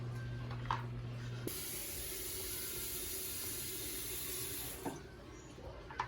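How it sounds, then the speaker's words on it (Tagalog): Water pours into a new household appliance as a steady, close hissing rush that starts abruptly and runs for about three seconds before cutting off, with no talking. "Lagyan na natin siya ng tubig."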